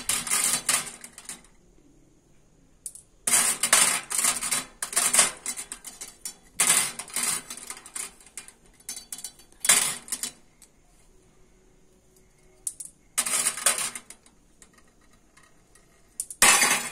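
Marbles dropped one at a time into a rubber gasket during a one-minute kitty party game, giving bursts of bright clicking and rattling taps separated by quiet pauses, close and fairly loud.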